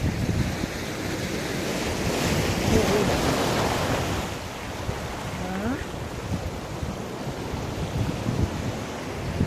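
Ocean waves roll in at Seethapalem Beach, a loud, continuous surf wash with wind rumbling across the microphone and a brief faint voice partway through.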